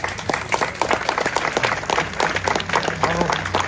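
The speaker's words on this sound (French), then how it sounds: "je pense qu'on peut l'applaudir et le remercier" Audience applause at the unveiling of a bust of Suzanne Valadon at the Montmartre museum, a dense, steady clapping that fills the whole stretch at close range, with some voices mixed in.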